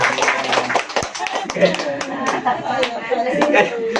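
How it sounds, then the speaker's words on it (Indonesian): A seated group of women in a community family-health meeting claps together for several seconds, a dense patter of hand claps mixed with chatter and voices throughout. "Tepuk tangan dong, Bu."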